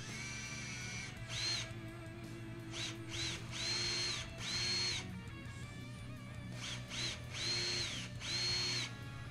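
Power drill boring a hole into a laminated guitar body for a strap button, whining in repeated short bursts with steady motor hum between, close and alone.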